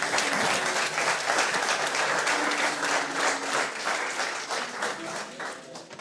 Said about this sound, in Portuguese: Batam palmas à vontade.